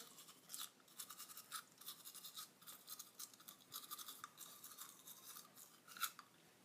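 Close toothbrush scrubbing with bursts of wiggling strokes and brief pauses, soft and steady with no talking.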